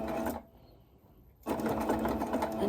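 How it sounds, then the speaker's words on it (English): A sewing machine stitching with red cotton runs in loud, steady bursts that stop for about a second in the middle and then start again. "I've got red cotton still in my sewing machine from when I did the other one"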